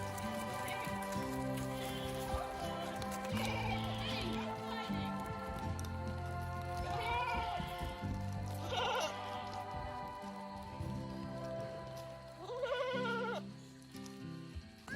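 Sheep and goats on a farm in the Australian rainforest bleat repeatedly, several distinct calls near and farther off, over a background patter and a person talking at times.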